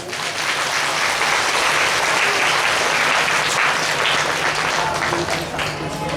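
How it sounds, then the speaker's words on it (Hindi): Crowd at a Hindu religious gathering of saints in Jwalapur clapping loudly for Mahamandaleshwar Narsinghanand Maharaj, a dense, sustained burst of applause filling the whole stretch with no talk over it. "महामंडलेश्वर नरसिंहानंद महाराज जी के लिए एक जोरदार ताली"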